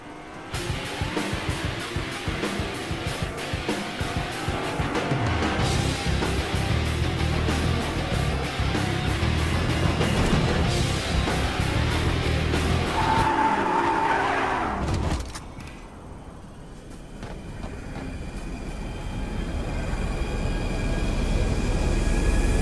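Whiplash cars roaring around Chunker Speedway in the game Fortnite, loud sustained engine drone with skidding tire noise, a brief dip in the middle, then engines swelling back up.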